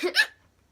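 A single close hiccup, a sharp two-part gulp, is followed by silence.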